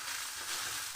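Spices such as cumin, coriander powder and turmeric are stirred in a pan with a silver carp fish filling for cutlets. A brief, close stirring scrape runs over a soft sizzle.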